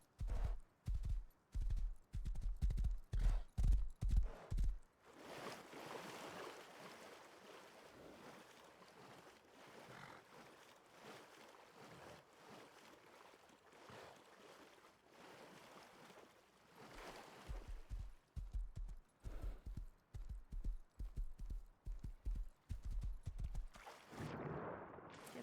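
Horse hooves clip-clopping in the Rust video game, a rapid loud run of hoof beats at the start, then a quieter stretch of wind-like ambience before the hooves return near and steady toward the end.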